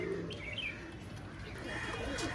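Pigeons coo softly in a short stretch, with a few faint chirps over a steady background hum and no speech.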